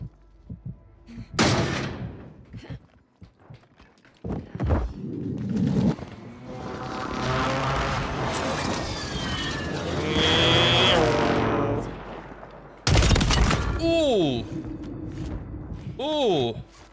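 Sniper rifle shots in the first-person shooter Warzone 3 crack out as a few sharp, loud single reports spaced far apart, with other game effects and excited talking around them.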